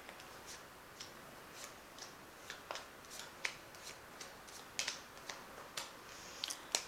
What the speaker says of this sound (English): I've shuffled these cards. I'm just going to cut the deck.